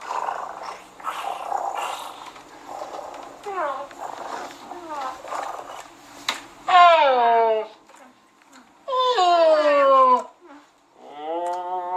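A person voice-imitates a cat purring, producing rolling, growly vocal sounds and drawn-out swooping tones in close bursts. Other people talk and laugh around the imitation.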